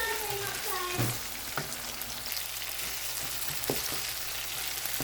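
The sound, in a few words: tomatoes cooking down in a pan while being stirred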